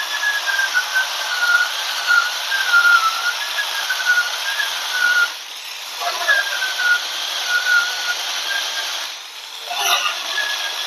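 Coconut is grated on a hand coconut grater, giving a continuous close rasping scrape with a whining tone, interrupted by two brief pauses before the grating resumes.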